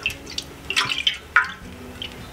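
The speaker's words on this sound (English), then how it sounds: "I'm gonna go ahead and immediately add my fragrance oil." Fragrance oil pours into hot melted coconut wax for wax melts, producing a few soft, close liquid drips and splashes over a low background hum.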